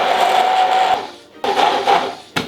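Food mixer whirring as it blends eggs, salt, pepper, onion and garlic powder in a kitchen, a loud steady buzzing drone in two bursts, with a short pause between them and a brief start at the end.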